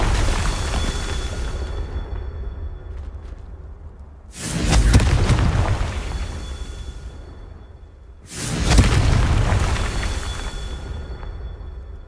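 The Confringo spell in the video game Hogwarts Legacy sets off two deep booming explosions about four seconds apart, each swelling and fading over a low rumbling backdrop.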